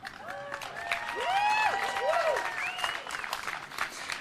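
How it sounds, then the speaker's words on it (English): An outdoor crowd at a Progress Pride flag raising in Westfield, MA applauds steadily, with cheers and rising whistles above the clapping. The sound swells toward the middle and then holds at a lively level. "Now, a big round of applause"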